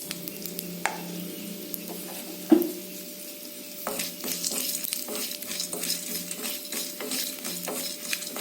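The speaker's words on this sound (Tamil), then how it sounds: "லைட்டாக ரோஸ்ட் பண்ணிக்கலாங்க" Whole spices roast in a little oil for a mushroom curry: cinnamon, cloves, cardamom, cumin, pepper and fennel. A soft sizzle runs under repeated scraping and clinks of a spoon against the pan, with one sharper knock early on.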